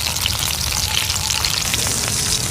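Pabda fish, turned over in hot oil in a pan, fries with a loud, dense and steady sizzle and crackle heard close up, with no voices.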